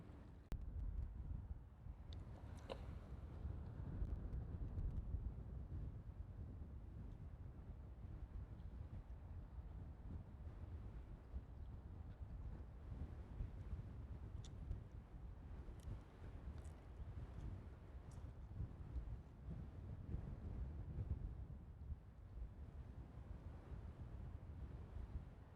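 Strong wind blows across the open sand at Huntington Beach State Park in South Carolina, roaring steadily into the microphone as a loud, continuous low rumble with faint surf mixed beneath for the whole stretch.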